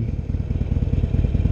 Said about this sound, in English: so I'm gonna gear down.